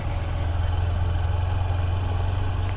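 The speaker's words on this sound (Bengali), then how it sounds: "ট্রলার যাচ্ছে।" A trawler boat's engine on the Jamuna River makes a steady, loud, low diesel drone that throbs evenly throughout with no pauses.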